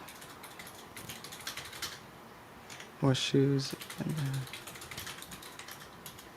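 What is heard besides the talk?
typing on a computer keyboard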